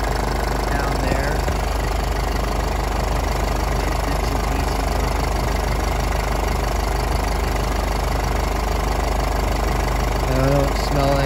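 A 2014 Mercedes-Benz GLK250 Bluetec diesel idles with a steady, close clattering knock from the open engine compartment, continuous and even throughout with no talking.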